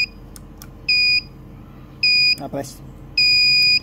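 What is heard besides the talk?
coin operated outlet timer beeping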